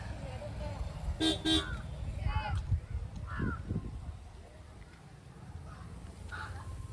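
Vehicle horns toot on a busy road, a few short honks, some nearby and others more distant, mixed with traffic noise while people talk.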